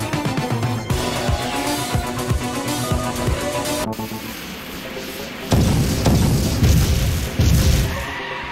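Missiles exploding around a car in the Knight Rider 2 video game, with repeated booming blasts, a busy roaring layer of engine and effects, then heavier low thuds near the end.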